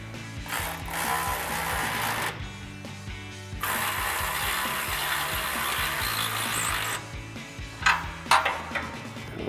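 Ratchet wrench with an 18mm socket tightening nuts on the bolt plates of a Barricade HD4 tubular steel front bumper on a 2018-2020 Ford F-150, giving steady repeated clicking bursts with short pauses, close and fairly loud, with no talking.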